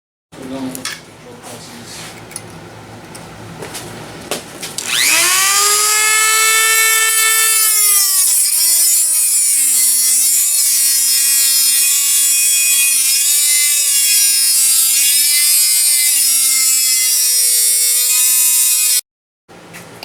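A power tool cuts a chunk out of a mini bike motor plate for a Predator or Honda clone engine swap. A loud, close, high-pitched whine rises and then holds for about fourteen seconds before cutting off abruptly.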